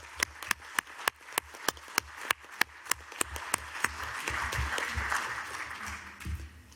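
A few sharp, evenly spaced single claps open, then a fuller round of audience applause swells at a World Interfaith Harmony Week session.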